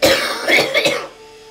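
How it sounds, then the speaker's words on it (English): A person with a chronic cough gives a close, loud burst of several rough coughs and throat-clearing over about a second, then falls quiet. "I cough like pretty frequently."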